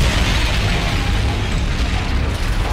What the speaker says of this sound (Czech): Teď tu bude úplně nějaká extra exploze.